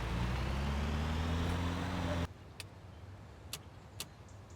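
White truck engine in the video game Storage Hunter Simulator, a loud steady drone with harmonic hum for about two seconds, then cutting off abruptly to quiet background with a few faint clicks.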